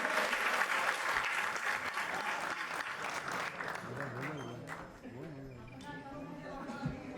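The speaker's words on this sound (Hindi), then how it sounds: "जुबैर भाई चंद शेर भाई जोरदार तालियों से एक बार बुलाइए तो आएंगे।" Audience at an Urdu poetry mushaira applauds steadily through the whole stretch, a dense wash of clapping with voices and cheers mixed in, while someone speaks over it.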